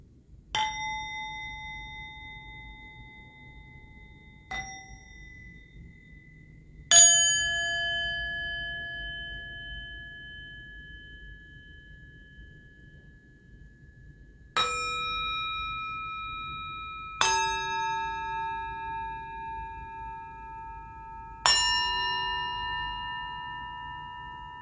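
Singing bowls struck one at a time in a sound-healing session, six clear metallic rings each left to hum and fade slowly, quiet and spacious with no talk.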